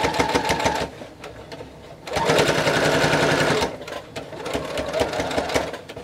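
A sewing machine stitches through the layered fabric of a many-pocketed bag in bursts of steady, rapid needle chatter, pausing briefly between runs, close and loud with faint talk in the background.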